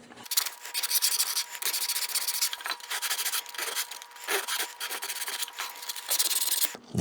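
Sandpaper rubs back and forth across a wooden cremation urn panel, working against the grain in close, loud, rhythmic strokes with short pauses between passes.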